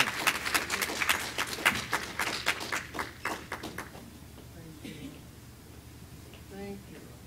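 A Bible study congregation claps hands for the Lord in a few seconds of crisp, rhythmic clapping that thins out and stops, followed by quieter room sound and a brief voice.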